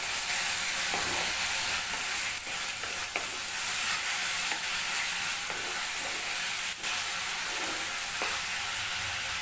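Tomato paste stirred in a hot pan gives a loud, steady sizzle and fry hiss, broken by soft scrapes of the spoon against the pan.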